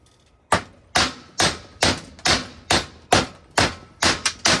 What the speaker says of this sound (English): Sometimes a hammer is your best friend.